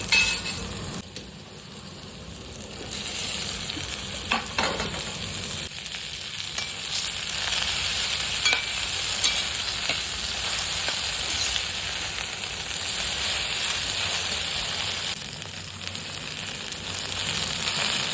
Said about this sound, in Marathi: आता याच्यामध्ये आपण कापलेली भेंडी टाकून घेऊया.